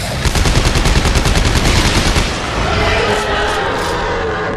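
Rapid automatic gunfire in the sci-fi horror game Dead Space 3: a loud, dense stream of shots for about two seconds, then a rougher, steadier roar of continued firing and game noise.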